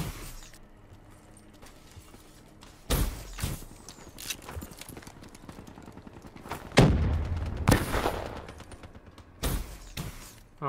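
Frag grenade blasts and gunfire in Black Ops 3 multiplayer, several sharp booming hits spaced irregularly over quieter game ambience, the loudest burst landing near the middle.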